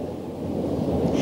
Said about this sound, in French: Et toujours la pluie, elle bouleverse notre programme, retarde les raideurs et désarme les mécaniciens.